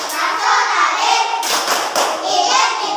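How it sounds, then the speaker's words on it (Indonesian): A group of children perform a rhythmic classroom clapping chant, close and loud, with quick bursts of hand claps in a patterned beat mixed with young voices. "Sekarang kita akan melaksanakan tepuk PPK."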